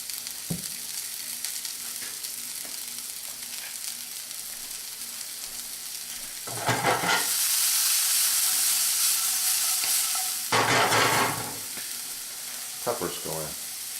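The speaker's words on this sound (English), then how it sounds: "Onions go in." Onions hitting a hot oiled pan with garlic, cooked for a pork tenderloin dish, burst into a loud sizzle that swells for several seconds, fades, then flares again in a second strong burst over a steady background hiss.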